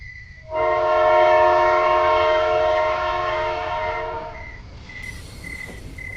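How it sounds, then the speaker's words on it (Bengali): A train horn blares loudly and steadily for several seconds, then fades into rail rumble with a fainter whistle tone near the end. "ওই ট্রেনটা সিগন্যাল পেল এবার ট্রেনটা ছাড়বে"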